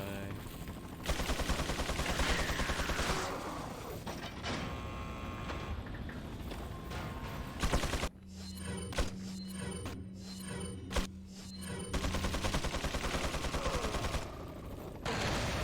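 Gunfire rings out in a video game speedrun on an island map, with repeated sharp shots and bursts separated by short pauses, loud and close, mixed with clanking mechanical noises and game sounds.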